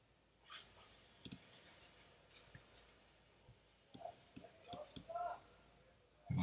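Computer mouse clicks on a desktop setup, scattered sharp single ticks with a quick burst of several clicks later on, quiet against a soft room background.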